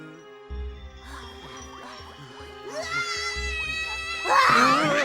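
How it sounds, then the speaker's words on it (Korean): Pororo, the cartoon penguin, screams in a forest scene from the animated series, rising to a loud, shrill cry near the end over busy cartoon music and effects. "뽀로로 비명 소리야!"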